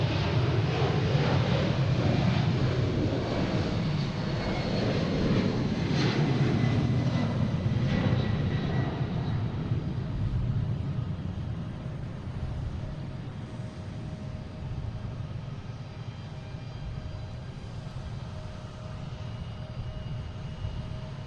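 A Delta jet airliner roars at Boston Logan International Airport at night, its engine noise loud and sustained, then easing to a steady, slightly softer rumble as it moves away.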